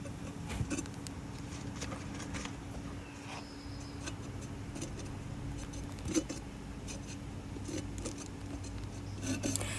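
A knife spreads Bondo auto body filler along the cracked edge of a flower pot, making faint, close scraping and rasping strokes that repeat steadily over a quiet background hum.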